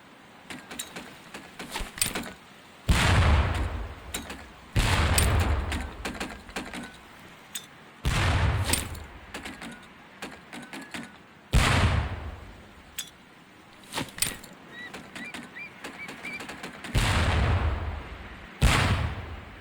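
Training grenades from Medal of Honor: Pacific Assault burst against barrels, loud thudding blasts landing one after another every few seconds, each with a short rattling tail and quiet gaps between.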